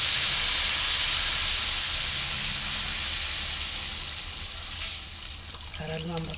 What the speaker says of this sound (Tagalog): Lalagyan po natin ang gata niya. Pangalawang gata muna para lumambot.